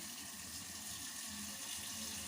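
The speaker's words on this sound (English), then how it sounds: "The first thing I do, I fill the pot" Tap water runs steadily into a cooking pot, a continuous hissing gush at constant level with no talking, as the pot is filled for cooking.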